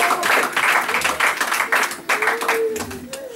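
A church congregation applauds the Lord with loud, continuous clapping that fills the room, mixed with voices and a few shouts.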